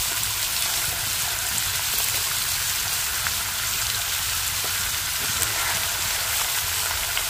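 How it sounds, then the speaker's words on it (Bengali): Potato slices for crisp chips fry in very hot oil, a dense, loud, even crackling sizzle like heavy rain that holds steady the whole time. "তেল খুব ভালোভাবে গরম হয়ে গেছে, এবার আলুগুলো দিয়ে দিচ্ছি।"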